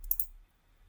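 A computer mouse gives two quick, close clicks, like a double-click, while someone works in AutoCAD placing a map marker; the clicks are crisp and near, followed by near silence.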